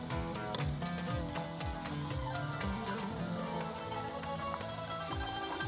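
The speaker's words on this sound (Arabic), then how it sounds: "بقلب الفريك بالبصل" Freekeh sautéed with onion in a pan, stirred with a utensil that makes repeated scraping and ticking strokes over a faint steady sizzle, close and fairly quiet.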